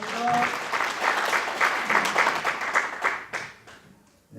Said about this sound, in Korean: 박수 보내드리시죠.